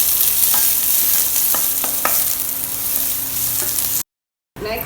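Chopped onions sauté in hot oil with mustard and cumin seeds, giving a steady, close sizzle with a few soft stirring knocks, then a short silent gap before the frying resumes.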